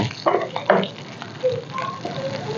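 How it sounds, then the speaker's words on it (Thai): Chili paste is stir-fried in a wok for a shrimp stir-fry, producing a close, uneven sizzle with scraping stirs, while faint voices sound in the background. "ผัดให้หอมหอมค่ะ"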